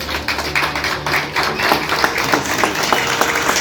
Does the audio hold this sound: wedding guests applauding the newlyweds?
yes